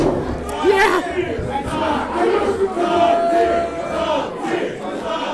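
A crowd at an indie wrestling show chants in rising and falling surges, loud and sustained, with individual shouts poking out over the group.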